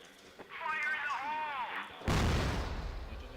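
A grenade goes off in CrossFire during a tournament grand final, landing as one sudden loud broadband blast that rumbles on. Beforehand, an announcer talks excitedly over the game sounds.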